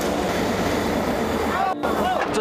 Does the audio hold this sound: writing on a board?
no